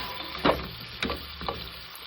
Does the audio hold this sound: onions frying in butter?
yes